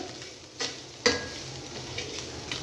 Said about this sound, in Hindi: इनको भी हमने कर लेना फ्राई, थोड़ा सा लाइट सा फ्राई करना है इसके अंदर।